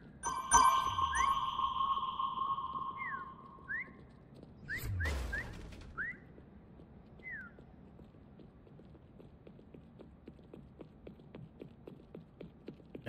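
A bright electronic ping tone in Lego Fortnite Prop Hunt rings out, followed by short chirping blips and a thud over a low background hum.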